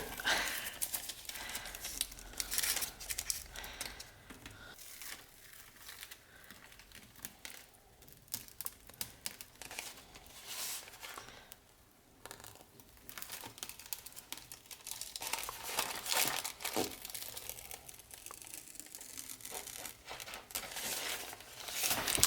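Thin, absorbent collage paper being peeled away in a single pull, giving a soft, continuous crinkling and tearing rustle with faint crackles throughout, quiet and close, with no talking.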